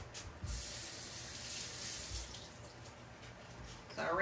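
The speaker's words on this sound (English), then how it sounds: "So I rinsed my hands off" Tap water runs steadily over hands in a kitchen sink, rinsed after handling raw chicken during food prep; a soft, continuous close splash that swells briefly at the start and again at the end.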